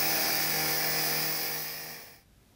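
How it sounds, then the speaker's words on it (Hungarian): Firefighters in Békés, Hungary demonstrate an angle grinder at the end of a simulation exercise, giving a loud, steady high-pitched whine that cuts off abruptly near the end. "A szimuláció végén a békési tűzoltók a flex használatát is bemutatták az érdeklődőknek."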